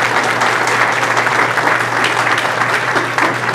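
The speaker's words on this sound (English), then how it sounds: "let's give her a round of applause." A crowd at a meet-the-candidate night breaks into loud, sustained applause that fills the room at an even level throughout.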